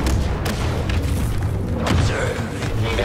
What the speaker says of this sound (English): I'm destroying his droid.